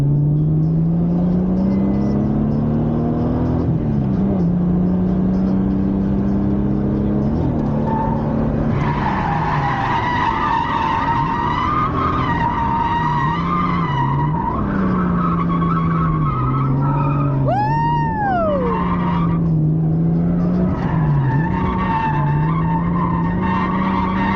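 A Toyota Cressida's engine drones and revs close by while tires squeal and skid repeatedly, with rising and falling pitch as it slides through turns.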